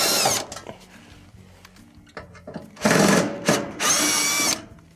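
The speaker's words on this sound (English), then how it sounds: "We must first remove the lower panel here with the 2 Phillips screws." Power screwdriver whirring in short bursts while backing out two Phillips screws from the lower panel of a Whirlpool electric stove, loud and close, with quieter handling sounds between runs.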